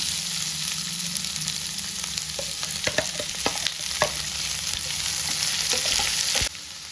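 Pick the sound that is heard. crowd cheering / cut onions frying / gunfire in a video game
cut onions frying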